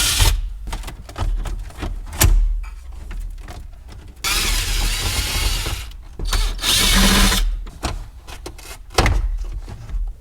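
Screws are taken out of a Dodge Dakota dashboard with a Phillips screwdriver: close scraping and clicking, sharp knocks of plastic trim, and a couple of longer hissing rasps, loud and irregular.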